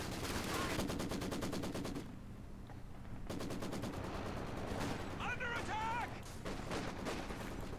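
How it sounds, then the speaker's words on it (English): Rapid machine gun bursts fill a Company of Heroes 2 battle with garrisoned troops, near and loud, with repeated rattling volleys, a brief lull, then more fire and shouted voices over the din. "a lot of machine guns going into garrisons"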